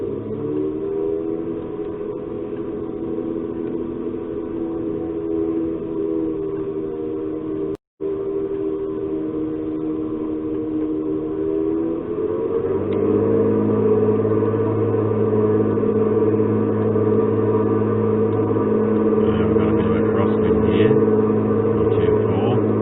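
A Piper Warrior engine in a flight simulator drones steadily during a takeoff roll on a runway, with a tonal hum that rises in pitch midway as power or speed builds.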